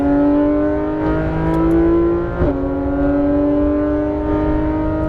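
Porsche GT3 RS 991 engine at full throttle on a race track, a loud, steady high-revving flat-six howl with rising harmonics held close throughout, briefly interrupted by a quick shift-like blip midway.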